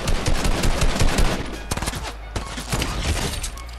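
Rapid, dense gunfire in a Fortnite match, loud close bursts of automatic shots with sharp cracks and a brief lull before more shooting.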